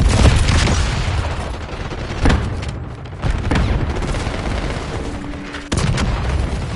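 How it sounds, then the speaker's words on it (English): A flashbang grenade and gunfire in a video game battle, a rolling barrage of heavy booms and bursts of shots, loud and close, with brief lulls between blasts and no talking. "Flashbang."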